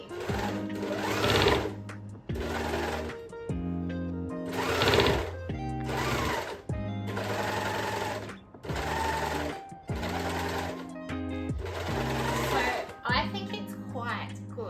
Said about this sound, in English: Obviously the knife for the overlocker is going to cut, but is it in the right place?